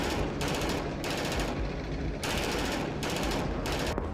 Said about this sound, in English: This Bradley unit can fire 10 rounds per second.